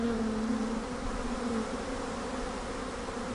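Steady, dense buzzing of bees and bumblebees feeding in a flowering rapeseed field, a continuous close hum with no talk.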